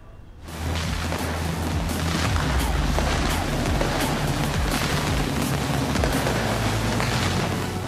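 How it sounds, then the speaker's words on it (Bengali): Over Sydney Harbour, New Year 2025 fireworks go off as a dense, continuous barrage of deep booms and crackling bursts. The barrage starts abruptly and stays loud throughout, with no speech. "জমকালো আতশবাজি,"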